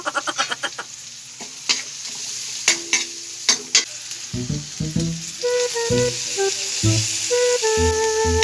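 Sliced onions stirred and frying in a pan for creamy tofu sisig, with a run of sharp scraping stir strokes giving way to a steady close sizzle; faint background music runs underneath.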